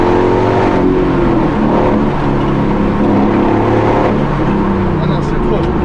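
A Ford Mustang GT500 Eleanor revs loud and hard with its wheels spinning, the engine roaring up close as excited voices shout over it.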